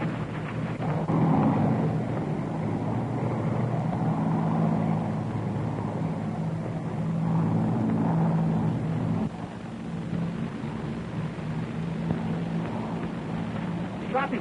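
A small propeller aeroplane drones overhead in an early aviation adventure serial, a steady loud engine rumble with a wavering buzz that holds throughout and dips slightly partway.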